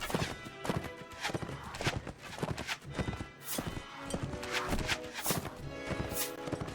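Hooves of a horse clopping in a medieval video game battle, a busy, loud run of rapid irregular hoofbeats mixed with clashing game effects, continuous and close.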